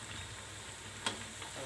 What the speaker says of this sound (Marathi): भाजायला आपले वड्याला वेळ लागतो, पण घाई करू नका तुम्ही.